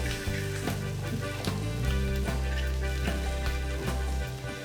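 Garlic, ginger and sliced green chilies sizzle in hot oil in a pan for soya chunks masala, a steady close frying hiss broken by repeated scraping stirs.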